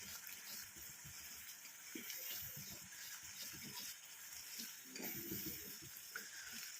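A thick black cumin hair oil mixture bubbling and sizzling in a pan, with soft irregular pops and gurgles, close up and fairly quiet.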